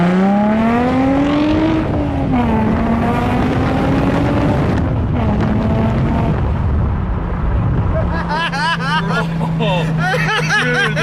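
A Nissan 350Z with a test pipe exhaust pulls hard at full throttle, a loud, rising engine roar that drops back after a gear change and then holds a steady drone. Occupants talk and laugh over it from inside the car.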